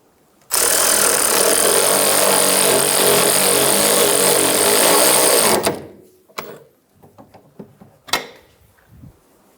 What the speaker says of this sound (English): Using a 15mm socket, we're going to snug the nut down.